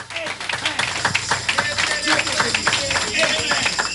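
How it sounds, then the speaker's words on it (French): A church congregation at a Sunday service claps for God in a quick, steady rhythm, with voices and shouts mixed in throughout. "we clap for our Lord"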